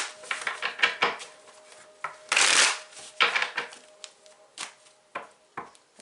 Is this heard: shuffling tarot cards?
yes